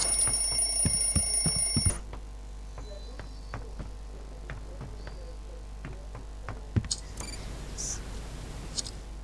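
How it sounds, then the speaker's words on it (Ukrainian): An electronic alarm clock in the video game Hello Neighbor Alpha 1 beeps loudly for about two seconds and then stops, followed by quiet clicks, taps and soft game sounds. "Запускаємо будильник і впишемо пароль."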